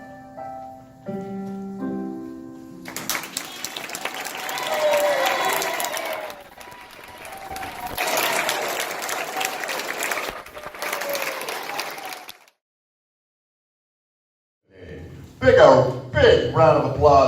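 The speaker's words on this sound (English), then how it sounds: "Big round of applause for Cindy Winders" Audience applause for a performer at an amateur musical variety revue, a crowd clapping steadily for several seconds after a brief musical ending, then fading to silence before a voice speaks.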